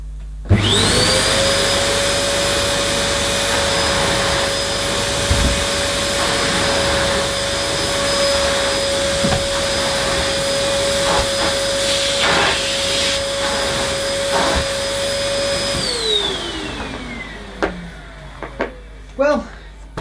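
A Moulinex Powerstar cylinder vacuum cleaner switches on and holds a loud steady whine with a tonal hum, then winds down at the end, while someone talks over it.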